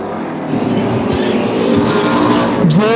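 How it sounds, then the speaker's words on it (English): Ontario Outlaw Super Late Model race cars racing at Flamboro Speedway, loud roaring engines of a close pack with a rising, doppler-shifting pass near the end, an announcer calling the race over them. "And our new race leader, JR Fitzpatrick, slingshots out front."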